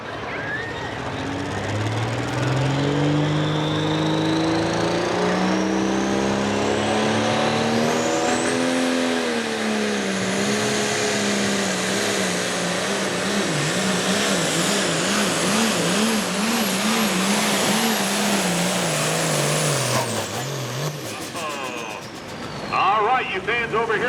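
A 1955 Oliver tractor roars loudly through a tractor pull run at a summer fair in Langford, New York, its engine climbing steadily in pitch with rising and wavering revs for about twenty seconds before cutting off.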